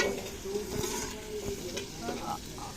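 Tomato and fenugreek fry in a pan in a village kitchen, a continuous close sizzle with occasional stirring scrapes and faint background voices.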